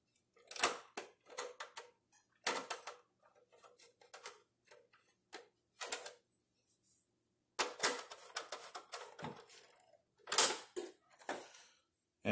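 Screws being driven into the ice crusher housing of a Frigidaire FGHS2631PF3 refrigerator. Crisp ratcheting clicks come in quick bursts separated by short pauses, close and clear, with no voices.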